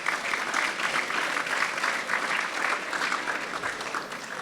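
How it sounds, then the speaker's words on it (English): Steady applause from a dinner banquet audience at an awards evening, honoring the Sodexo catering staff, sustained dense clapping throughout without any talk. "Please, a round of applause for them as well."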